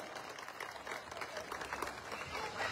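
Applause for the organiser at a public meeting, a crowd clapping steadily and fairly far off, a dense even patter that keeps going throughout.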